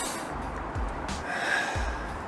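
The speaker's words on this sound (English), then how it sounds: "So breathing in" Sharp, close inhalations through the nose during a guided breathing session, a few quick audible breaths in spaced across a couple of seconds.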